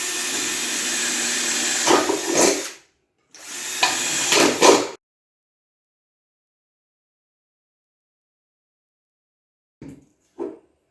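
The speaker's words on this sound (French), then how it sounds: "Donc on prend une petite perceuse et on y va." Small drill piercing holes in jar lids whirs in two loud bursts of a couple of seconds each with sharp clatter, then a long silence and a few brief knocks.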